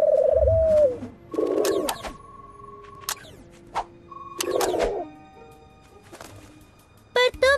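Cartoon pigeons cooing in short warbling bursts, with whistles, pings and clicks in between, in an animated Spidey and His Amazing Friends episode; no talk.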